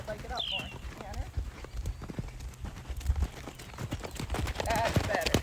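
Hoofbeats of a gaited horse being schooled into a canter, a rhythmic clip-clop running throughout, with a trainer talking over it and a few faint background chirps.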